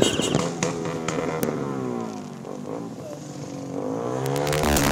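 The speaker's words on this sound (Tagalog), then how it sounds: "Mga sasakyang nagsisibusina, mga motor na maiingay, sinabayan pa ng mga makukulay at maiingay na paputok." Street noise at a New Year celebration in Cagayan de Oro: loud vehicle horns and revving motorcycles mix with sharp firecracker bursts, a dense, chaotic din throughout, with voices faintly underneath.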